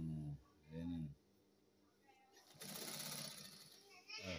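A sewing machine stitches a university jacket collar with a short burst of rapid mechanical whirring. A voice speaks softly before and after the stitching.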